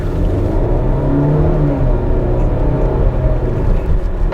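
A Range Rover Evoque P250 engine heard from the cabin while driving, a steady low rumble and whir with mild rises in revs, close and continuous with no talk.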